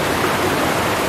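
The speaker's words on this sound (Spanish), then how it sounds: "Llegamos a la cascada Diamantes." Diamantes waterfall in the Dos Aguas ecotourism park near the Iztaccíhuatl volcano, a steady, loud, close rushing roar of falling water with no voices.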